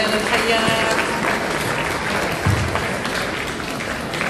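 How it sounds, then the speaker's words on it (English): Audience applause at a mayoral Iftar dinner in Canterbury Bankstown, a steady, dense wash of clapping lasting the whole stretch, fairly loud and close, with faint voices mixed in. "Another round of applause for our much loved Mayor Bilal Al-Hayya."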